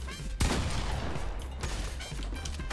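Gunfire in the video game Fortnite, a loud sustained burst of rapid shots starting abruptly and continuing with another surge later.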